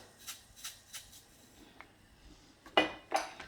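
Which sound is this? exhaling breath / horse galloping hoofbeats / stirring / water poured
stirring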